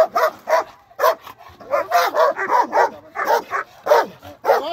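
A guard dog barks and yips in rapid, loud bursts close by while lunging at a person holding a stick, the barks tumbling over each other almost without pause.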